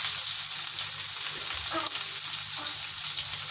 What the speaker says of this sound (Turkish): Biberlerim kızardı şöyle.